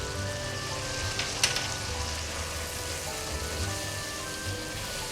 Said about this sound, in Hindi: वापस थोड़ा सा पानी डालते हैं ताकि जो मसाला है वो जले नहीं, बस अच्छी तरह से भुने